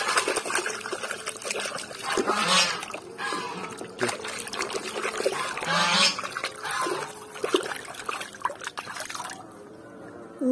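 Running water splashes and trickles over a toy dinosaur as it is rinsed clean, a continuous close wet sound, while a voice talks over it.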